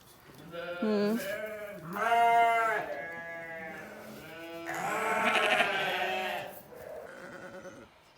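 Several ewes bleat in overlapping, wavering calls, some long and loud, others shorter, close by with no talking, during lambing.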